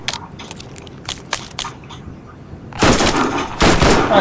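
Rapid bursts of gunfire in the video game Borderlands, scattered crackling shots at first, then a loud dense volley from about the third second onward.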